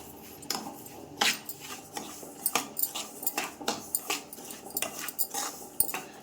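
Semolina (rava) roasts with oil in a pan, heard as repeated close scraping and clattering strokes of a utensil against the metal pan, uneven in rhythm, with no talking.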